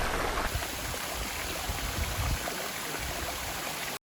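Rushing water pours continuously, a dense broadband roar like the Rinka waterfall in Slovenia's Logar Valley heard fairly close, with no voices.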